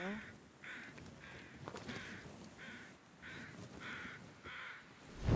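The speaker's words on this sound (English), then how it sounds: "I hear crows." Crows in the survival video game The Long Dark, cawing in a regular series of about eight rasping calls spaced evenly, moderately distant over soft wind ambience.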